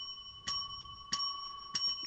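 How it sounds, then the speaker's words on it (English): Three bright ringing bell strikes, evenly spaced about two-thirds of a second apart, each with sustained pure tones, heard clearly and close with no talking over them. "That's not a phone. That's a bell."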